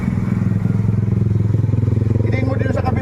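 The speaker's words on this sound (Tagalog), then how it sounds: "dumadaan kasi yung motor eh" A motorcycle engine drones loud and steady at close range with a rhythmic pulsing putter, in an outdoor Filipino street setting, as it passes.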